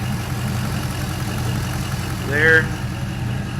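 LS crate engine idling steadily at around 700 RPM, a low continuous rumble with a brief tonal whine swelling midway; a voice speaks briefly over it.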